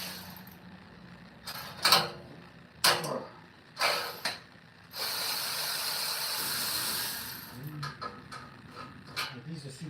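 A wrench works loose old side bolts in a few sharp ratcheting creaks and clicks, followed by a long steady hiss and softer scattered clicks, with a voice speaking in between.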